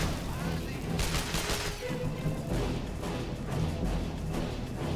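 Enemy sniper fire in the game Sniper Ghost Warrior cracks out in several sharp shots among bursts of gunfire, with a player talking over the battle.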